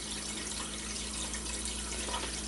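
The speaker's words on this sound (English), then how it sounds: "There you go, water's going over the top." A faucet runs steadily into a sink where a submerged drinking glass fills and water spills over its rim, a continuous hiss and trickle with no voices.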